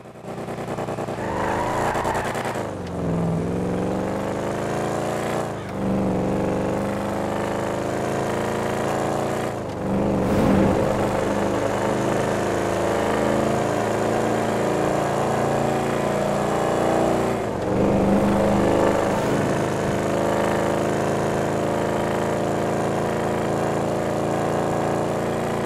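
A loud, deep muscle car engine, the Grizzly Bear in GTA V, roars through long rising revs with brief gear-change dips, up close and sustained with no talking.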